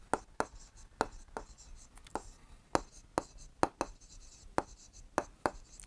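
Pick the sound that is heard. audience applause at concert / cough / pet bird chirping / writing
writing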